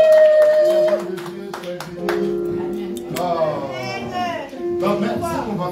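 A church congregation claps and cheers, with sharp scattered claps mixed with voices, singing tones and children's sounds, fairly loud and lively throughout.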